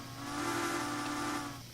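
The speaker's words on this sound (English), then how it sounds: "You can even see the whistle lever, and it's just a standard whistle" Standard steam locomotive whistle from the Minecraft Immersive Railroading mod, a small-gauge engine, sounding one steady, loud, continuous blast with airy hiss that holds for nearly two seconds before beginning to trail off.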